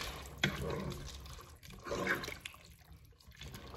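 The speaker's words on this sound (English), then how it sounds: "Add some water," Tap water running into a pot of elbow macaroni on the stove, a soft continuous splashing and pouring at moderate distance, no talk.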